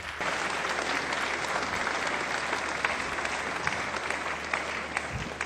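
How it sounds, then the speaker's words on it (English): Steady crowd applause at a 30th anniversary reunion dinner of an old students association, a continuous dense wash of clapping held at even volume throughout. "let your clapping be a clapping of thank you"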